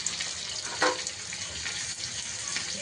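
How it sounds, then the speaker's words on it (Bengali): Shallots and curry leaves frying in hot white oil for a Kerala chicken stew, giving a close, steady sizzle with a brief sharper crackle near the start and no speech. "একটু লাল করে ভাজবো।"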